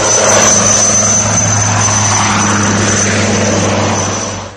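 An HAL Light Combat Helicopter roars loudly nearby, its rotor thrumming steadily with a high whine on top, then fading slightly at the very end.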